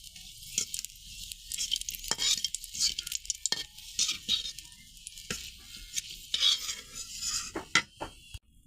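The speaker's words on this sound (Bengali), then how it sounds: "তারপরে এই তেলের মধ্যে 2 পিস মরিচ ভেজে নেব" Two chili peppers fry in oil, a bright crackling sizzle with spitting bursts that rise and fall, along with occasional knocks of a utensil against the pan.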